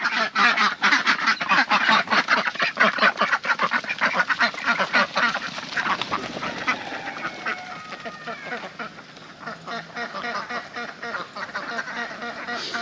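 A flock of ducks at a pond quacks loudly and continuously, many overlapping calls close by, with no talking.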